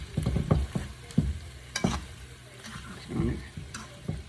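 Cream cheese sausage dip being stirred in a hot pan, with repeated scraping strokes of the spoon over a steady low sizzle, close and moderately loud, no talk.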